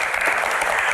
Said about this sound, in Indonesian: Tepuk tangan untuk para panelis kita.